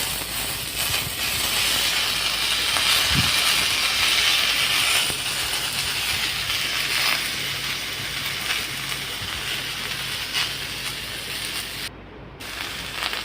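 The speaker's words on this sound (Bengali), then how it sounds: "সবজি দিয়ে দেবো এখন" Mixed vegetables and dal fry in a pan with a dense, continuous hiss and crackle, steady and close, with one low thump early on and a short break near the end.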